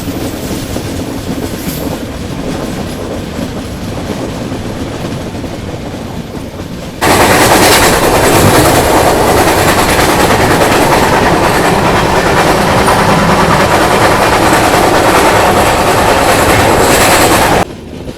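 The Mandovi Express passenger train runs on the rails between Mumbai and Goa, its steady clickety-clack and rumble heard from on board, growing much louder partway through and staying loud and constant.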